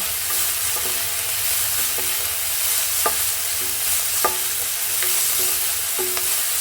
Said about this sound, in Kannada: ಇದು ಹಸಿ ಬಟಾಣಿ. ಇದು ಸ್ವಲ್ಪ ಚೆನ್ನಾಗೆಲ್ಲ ಫ್ರೈ ಮಾಡ್ತೀನಿ